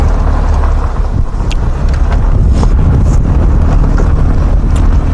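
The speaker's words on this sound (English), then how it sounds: "It's quite a windy morning this morning." Loud gusty wind on a morning safari buffets the microphone in heavy rumbling bursts, with a constant roar of outdoor air and no voices.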